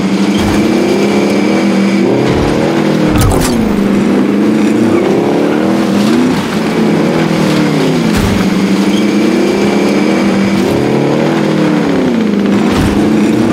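A car drives in Call of Duty: Warzone battle royale gameplay, its engine loud and close, rising and falling through repeated revs and gear shifts, with occasional sharp impacts.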